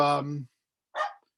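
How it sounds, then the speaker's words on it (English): A dog barks close and loud in two short woofs separated by a brief silence, the first harmonic and drawn out, the second shorter and breathier. "that's my dog"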